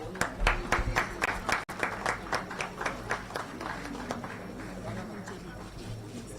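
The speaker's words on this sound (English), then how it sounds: "Please give a huge round of applause." Hall audience clapping as an honoree is recognized at a live religious celebration, scattered claps tapering into a light patter, with faint voices and background noise.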